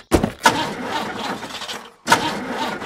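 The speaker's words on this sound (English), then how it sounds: "Elephant's car won't start." A cartoon car's engine cranks in short, sputtering bursts and fails to catch: two quick cranking attempts, a brief drop, then a third try, close and fairly loud.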